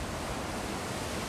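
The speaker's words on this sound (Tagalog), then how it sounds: "Ang lalaki ng mga alon." Rough ocean waves wash onto Church Beach on Bermuda Island under an overcast sky, a steady, faint broadband roar of surf with no voices.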